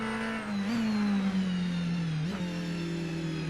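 Race car engine in a racing video game from a preseason test at Highlands Motorsport Park, a steady close whine with a small rise near one second and a brief blip later, with no talk.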